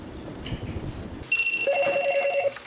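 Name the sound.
telephone ringing in subway courier office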